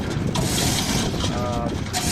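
A chain hoist clanks and ratchets as it hauls a large boat propeller, metallic rattling close by with brief squeaks, no voices heard.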